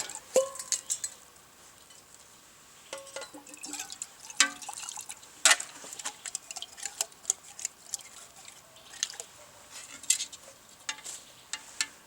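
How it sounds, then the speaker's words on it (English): Water sloshing and dripping inside a small tin cup as it is rinsed and swirled, with light metallic clinks and scattered splashes, close and fairly quiet with no talk. "swirl it around a bit"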